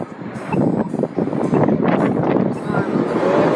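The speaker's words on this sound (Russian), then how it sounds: "А ветер здесь всегда такой." Gusty wind blasts the microphone in uneven surges, a rough low roar with someone talking underneath.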